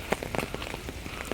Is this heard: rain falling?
yes